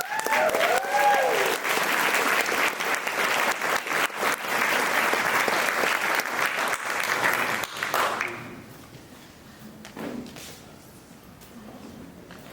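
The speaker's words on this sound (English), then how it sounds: "Let's give him another big round of applause." Enthusiastic applause and cheering at a wedding reception fills most of the clip, loud and steady for about eight seconds before it fades to quiet room murmur.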